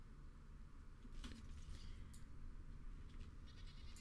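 A goat bleats inside the fantasy role-playing game Dragon Age: Origins, fairly faint and set within steady game ambience, with a few brief calls spread across the moment and no speech.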